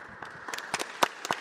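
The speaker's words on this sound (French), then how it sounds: "On vous applaudit." A small parish audience in Angoulême claps sparsely, a handful of distinct, quiet hand claps scattered irregularly rather than a full round of applause.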